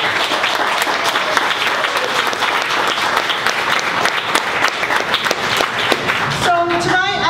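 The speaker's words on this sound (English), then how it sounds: "I ask for a round of applause for our brothers and sisters from the United States." Audience at a Steelworkers Union memorial commemoration applauding union brothers and sisters from the United States, dense sustained clapping for about six seconds before it fades, with some voices underneath.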